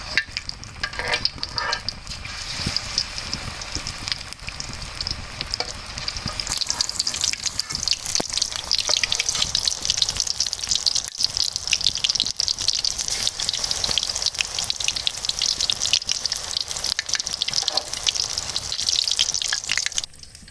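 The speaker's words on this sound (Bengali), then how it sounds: "এই বেসমের ভিতর দিয়ে গোশ, ভাজা গোশ ডুবরিয়ে চিকেন পড়ার উদ্দেশ্যই আমরা কড়ার ভিতরে ছাড়িয়ে দিলাম" Chicken dipped in gram-flour batter fries in an outdoor wok, the sizzle growing louder and denser partway through and then crackling steadily to the end.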